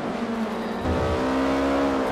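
Ford RS200 race cars in the Forza Motorsport video game slide through a corner, engines droning steadily with a rising engine note and a brief tire scrub, loud and continuous throughout.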